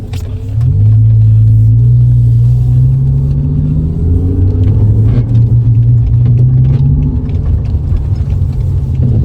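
BMW M5 E60 accelerating hard in Sprint Booster race mode, a loud, close engine roar that swells and climbs in pitch through the gears with a deep rumbling undertone and no talking.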